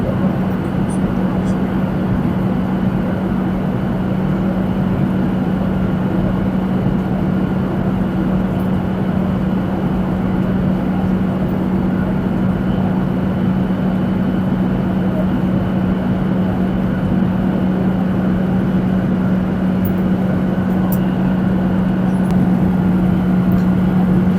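A steady, loud jet-cabin drone with a constant low hum runs unbroken throughout as an airliner descends toward Kamuzu International Airport in Lilongwe on a flight from Nairobi.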